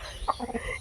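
A desi hen gives a quick burst of two or three short, close clucks, alone and over in under a second.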